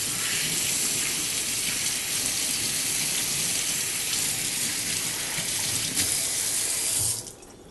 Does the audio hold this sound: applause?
no